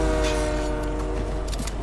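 A train in the Fortnite video game rolls past with a steady horn-like tonal drone and low rumbling clatter, loud and continuous throughout, with no talking.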